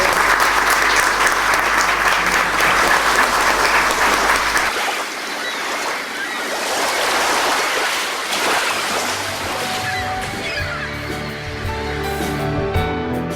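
Audience applause after a prevention talk in Mar del Plata, Argentina, loud and steady clapping that thins out partway through, leaving scattered claps and low room noise.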